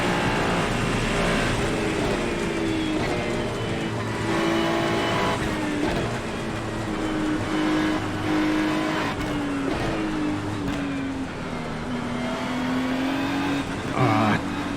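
A race car in the iRacing sim drives on a wet track, its engine droning loudly and steadily and shifting pitch through gear changes and lifts, with the hiss of spray from the wet surface underneath.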